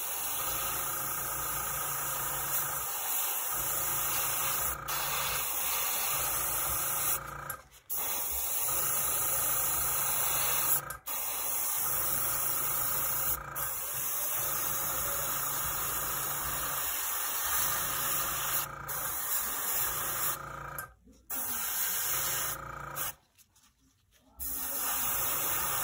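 An airbrush sprays black primer onto miniatures, producing a steady close hiss broken by brief pauses between passes, with a faint compressor hum underneath throughout.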